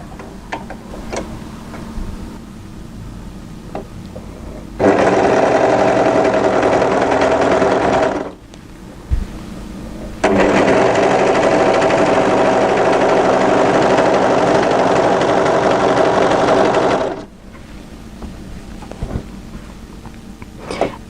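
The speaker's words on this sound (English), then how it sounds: "we want to sew this seam running off it, which is nice and long and straight" An overlocker stitching a long straight seam on a crossover cowl top, running loudly and steadily in two long bursts separated by a short pause, with quiet handling noises before and after.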